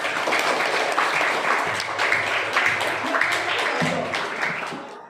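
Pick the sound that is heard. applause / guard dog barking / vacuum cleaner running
applause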